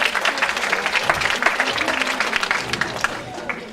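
A crowd claps in sustained applause, dense overlapping claps that gradually thin out toward the end, with voices mixed in.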